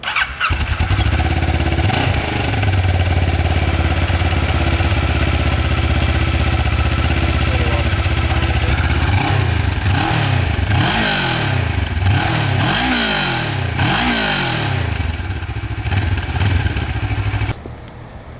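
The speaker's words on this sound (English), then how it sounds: "All right guys, we're gonna get an exhaust clip" A Kawasaki Ninja 650R on its stock exhaust idles loud and close, then is blipped through a series of quick revs that rise and fall before settling back to idle and cutting off.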